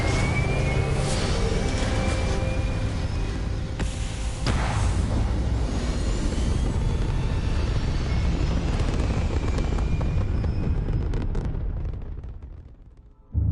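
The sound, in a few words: spaceship retro thrusters firing during takeoff, Starfield video game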